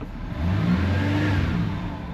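A 1994 Buick Regal GS engine revs hard toward 4,000 rpm, its low mechanical roar swelling and holding steady for a couple of seconds before easing slightly, close and loud.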